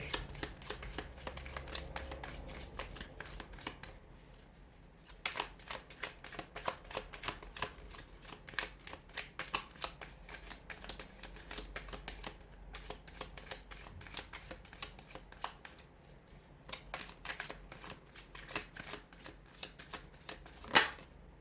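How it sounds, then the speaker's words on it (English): Tarot cards riffled and shuffled close up, crisp rapid flicking in repeated bursts with short pauses between, quiet and uninterrupted by speech. "give the cards a shuffle"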